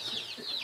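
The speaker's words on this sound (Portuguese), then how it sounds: "Uma galinha chocando." A brooding hen on a farm gives a short run of soft, wavering clucks, fairly close and alone.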